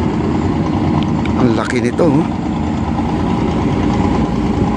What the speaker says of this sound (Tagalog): At saka silbing makina ng barge itong mga tugboat na to